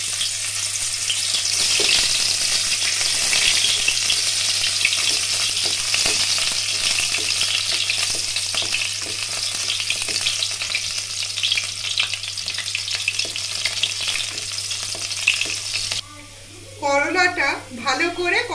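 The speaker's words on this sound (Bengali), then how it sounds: "বড়ি ভাজা হয়ে গেছে, এবার আমি করলাটা ভেজে নেব।" Bitter gourd frying in hot oil for a Bengali sukto, a dense, steady sizzle with occasional stirring that runs loud for most of the stretch, then breaks off near the end as a voice comes in.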